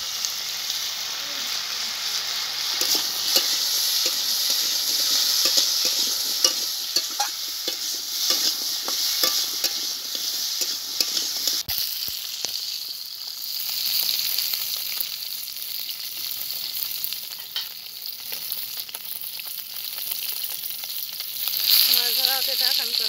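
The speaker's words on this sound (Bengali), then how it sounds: "আলুতে আমি একটু লবণ, একটু হলুদ দিয়ে ভেজে নেব।" Potatoes fry in hot oil with salt and turmeric, a continuous bright sizzle broken by frequent scrapes and clinks of a spatula against the pan, with no talk.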